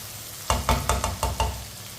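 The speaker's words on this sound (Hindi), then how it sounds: "3 मिनट के लिए मैंने फ्राई कर लिया चिकन को" Chicken frying in a pan over medium heat, with a low sizzle under a run of six quick stirring knocks and scrapes against the pan over about a second, close and moderately loud, no voices.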